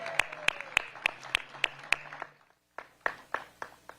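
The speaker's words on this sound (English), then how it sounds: "another round of applause for Miss Hadi Shatar." Sparse, sharp handclaps from a small audience at an outdoor welcome event for the U.S. Capitol Christmas Tree in Las Vegas, landing in a steady rhythm, pausing briefly, then resuming a little softer.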